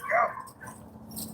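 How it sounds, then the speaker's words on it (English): A dog gives a short bark or yelp near the start, followed by quieter yips and faint whimpering against a low background hum. "Oh, now my dog barking."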